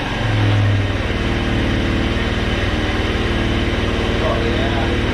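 An old scooter engine that still runs after five years, idling close by with a steady, throbbing mid-pitched putter that never pauses.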